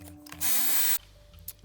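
Power drill boring out rivets on a titanium brigandine coat of plate, worked over an anvil with wood beneath: a single half-second burst of whining drilling between quiet handling clicks.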